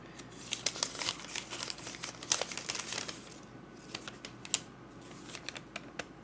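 Paper and card packaging from a M. Micallef DesirToxic L'Intense fragrance box being handled, crisp crinkling and rustling in irregular bursts close to the mic, with sharper crackles scattered throughout and no talk.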